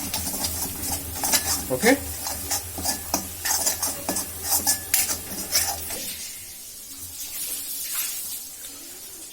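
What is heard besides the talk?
frying egg puff masala on low flame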